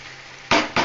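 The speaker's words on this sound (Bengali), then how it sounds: "আমি এইভাবে একটুখানি জল দিলাম।" Water splashes into Maharani chicken frying in a pan, two loud broadband hissing bursts cutting in after near-silence, the second shorter than the first.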